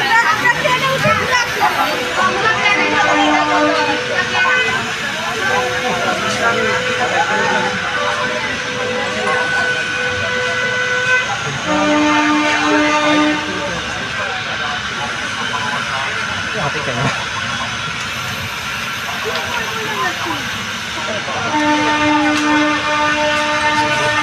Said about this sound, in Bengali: আমরা রাধিকাপুর থেকে বেঙ্গালুরু গ্রামে এই ট্রেনটি ধীরে ধীরে আমাদের প্রাণ শহর, আমাদের প্রাণের শহর কালিয়াগঞ্জকে ছেড়ে